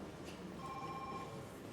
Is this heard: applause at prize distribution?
no